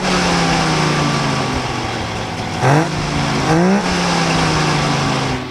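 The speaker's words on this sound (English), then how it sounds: "Fire that thing up. Let's hear it." A hot rod engine fed by three small carburetors runs loud and close at a steady idle, with two brief rising revs blipping the throttle before it settles back to a rumbling idle, at a car show.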